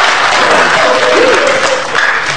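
A large audience claps through the whole stretch in loud, dense, sustained applause, with a faint voice rising briefly in the middle.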